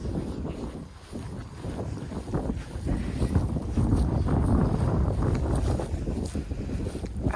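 Steady wind gusts buffet the microphone with a continuous low roar, rising slightly midway and holding strong throughout.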